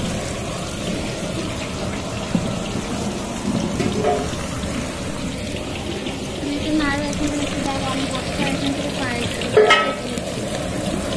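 Onions browning with ginger-garlic paste for mutton biryani, a steady sizzling fry with occasional stirring scrapes and a brief louder clatter near the end, while low talk runs underneath.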